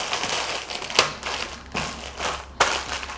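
Hazelnuts inside a plastic bag are crushed with a mortar pestle, giving close crinkling plastic and crunching cracks in repeated grinding strokes, with sharper pops as shells break.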